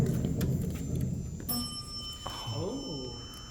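An Otis elevator in a downtown parking garage gives a couple of soft, clear chime tones partway through, heard under people talking and the hum of the garage.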